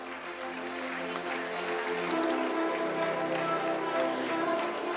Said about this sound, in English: Clap for them, girls. To make some noise.